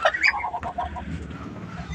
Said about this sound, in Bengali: এই হচ্ছে লালচে মুরগিটা যার কথা বললাম